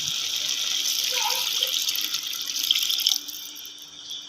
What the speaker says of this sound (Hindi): अच्छी तरह मिक्स करने के बाद अब इसमें शामिल करेंगे थोड़ा सा पानी